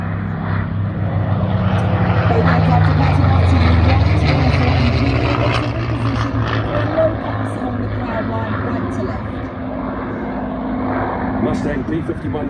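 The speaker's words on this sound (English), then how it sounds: "Both aircraft are passing up to you." A Spitfire and a P-51D Mustang warbird fly past at an air show, their steady propeller engine drone loud and sustained while a commentator talks over them throughout.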